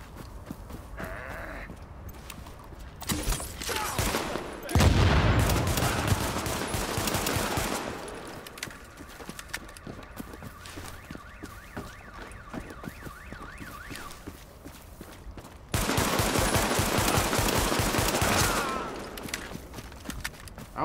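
Bursts of rapid gunfire in the video game The Division come in two long volleys, loud and dense, separated by quieter stretches of background noise.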